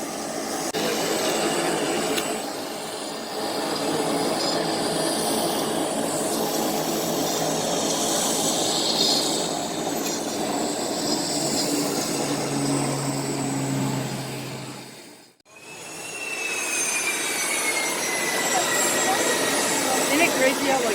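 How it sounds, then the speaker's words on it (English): A Pilatus aircraft's engine drones steadily at a small county airport during takeoff, heard from a distance, with a brief dropout before the sound returns and rises. "Here comes the Pilatus for the takeoff."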